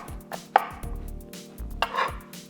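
A knife chops canned artichokes into thin strips on a board, a quick series of crisp, close taps in an uneven rhythm with short pauses between strokes.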